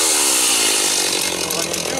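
A chainsaw at fast idle, set that way just after starting before notching a palm tree trunk, gives a loud, steady, buzzing engine drone close by with a slight rise in pitch.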